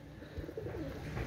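A Royal Teddy pigeon gives a soft, low, rolling coo, faint and brief, heard close against quiet background noise.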